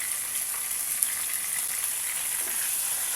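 Chicken wings frying and sizzling in a pan for sinampalukang manok, a steady bright hiss that holds evenly throughout, with no talking.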